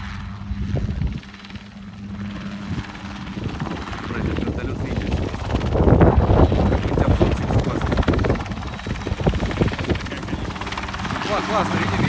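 A radio-controlled model helicopter, a CH-7 Kompress, buzzes and whines as it flies around an airfield, its rotor and engine noise rising and falling as it passes, with wind noise and people chatting nearby.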